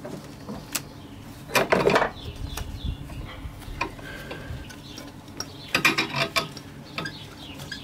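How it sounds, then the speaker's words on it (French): Ratchet clicks and light metallic rattles from hand tools as the air-conditioning compressor belt comes off an Alfa Romeo 156 GTA SW engine, with a few louder bursts of clattering between quieter ticking. "Donc je vais déjà défaire la courroie."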